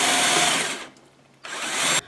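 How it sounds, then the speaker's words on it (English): Power drill boring a hole through a cart frame, a loud close high whine that drops off, pauses briefly, then surges again before cutting out. "I'm going to drill a hole down through the frame of the cart."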